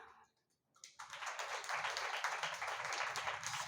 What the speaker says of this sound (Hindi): ताली बजाने से कुछ नहीं होगा